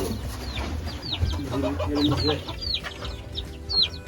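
Dwarf ornamental chickens in a coop clucking, several birds making short, repeated soft calls at close to moderate distance over low background rumble.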